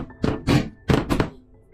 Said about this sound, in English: There was about a 25 minute video of him banging on the door